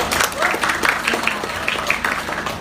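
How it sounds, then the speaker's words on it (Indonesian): An audience claps at a live event on modern agricultural machinery in Indonesia, a short stretch of brisk, fairly close clapping with individual hand strikes audible through the mix. "Sambutannya kita berikan tepuk tangan lagi sekali lagi."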